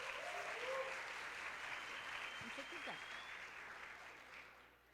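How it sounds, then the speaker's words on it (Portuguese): An audience applauds at an innovation talk event. The clapping is steady and continuous, heard from within the room, and fades slightly toward the end. "Adriane, palmas para ela"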